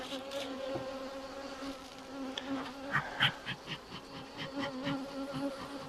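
A swarm of black honeybees hums in a dense, continuous drone close by, with individual bees buzzing in and out of the steady swell.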